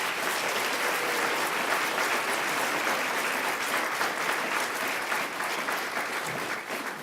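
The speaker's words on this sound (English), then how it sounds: "Let's give everybody a nice round of applause." An audience breaks into steady applause, a thick continuous wash of many hands clapping at even strength throughout, somewhat distant and roomy, with no individual voices standing out.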